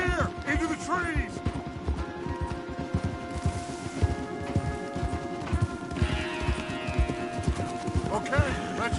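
Horses gallop in Red Dead Redemption 2, with fast, continuous hoofbeats pounding up close, an occasional whinny and some tack rattle, while voices speak over the riding.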